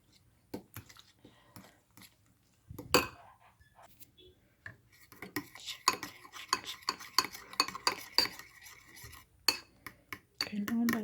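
A utensil stirs a small pan for a fried banana snack, giving close, irregular clinks and scrapes of metal on the pan that grow busier partway through, with brief pauses between strokes.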